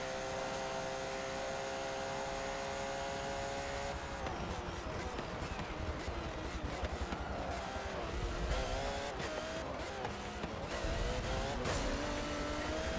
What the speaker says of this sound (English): This car really powering forward.